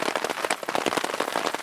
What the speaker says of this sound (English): it's raining and we're just getting wet standing there